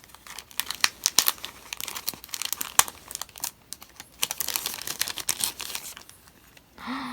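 Stationery packaging being torn open by hand, with crinkly tearing and rustling in irregular close bursts, a brief pause, then a short low rustle at the end.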